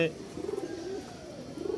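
Several Rajshahi Giribaz pigeons give soft, burbling coos in two short bursts, nearby and moderately quiet, with faint voices in the background.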